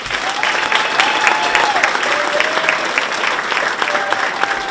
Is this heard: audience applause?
yes